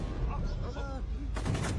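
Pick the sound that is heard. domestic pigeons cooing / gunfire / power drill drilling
gunfire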